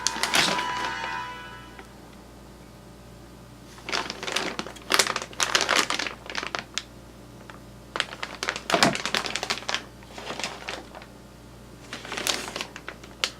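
Plastic bags of RC crawler kit parts for an Axial SCX10 Dingo crinkle and rustle in bursts during unboxing, close and fairly loud, with short taps and quiet gaps between the handling.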